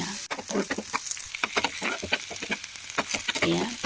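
Onions frying in oil in a pan while being stirred, for an egg curry. Steady close sizzle broken by frequent scraping strokes of the spoon, with no talk.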